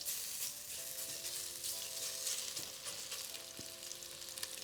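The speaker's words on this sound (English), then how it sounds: "we want to get our meat nice and seared" Meat searing in hot bacon grease in a pan for carne adobada, a steady bright sizzle and crackle with a few pops, close and continuous, no voices.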